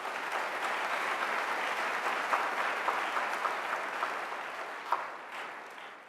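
A room full of people at a spring graduation convocation claps steadily for several seconds, a dense even patter with a few sharper claps standing out before it slowly thins toward the end.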